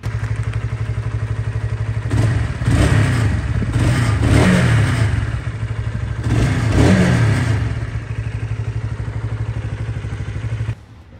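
A lightweight Honda CBR125R motorcycle engine idling close by, then revved sharply several times in bursts that rise and fall, with a steady mechanical clatter between revs before cutting off near the end.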